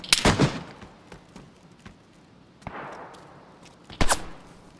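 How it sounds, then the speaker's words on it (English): Gunshots in the survival video game DayZ: two or three sharp, loud bursts spread over a few seconds, the first and last strongest, with a quieter crack between them and faint background noise in the gaps. "I shot him, but not enough times"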